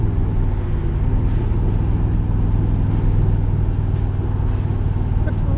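A 1964 Corvette coupe with bigger rear tires and a custom steering wheel cruises along a road, with a steady, close engine drone and rumbling road noise that hold constant throughout.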